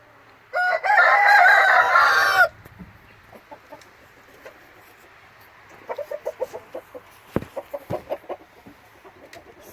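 A Thai rooster crows one loud, drawn-out call near the start, followed by a quieter series of short clucks and chicken calls from the flock.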